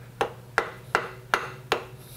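A milling fixture is tapped so it pivots on a bolt on a horizontal mill, five sharp metallic knocks spaced evenly at a steady pace, close and clear over a low machine hum.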